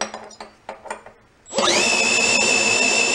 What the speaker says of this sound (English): I gotta put the drill on slow because it's shutting off.